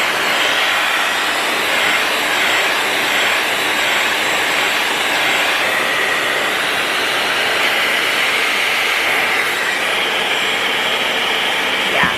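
A hair dryer blows steadily on curly hair while it is straightened, a loud, close, unbroken roar that holds for the whole stretch with only slight shifts in tone.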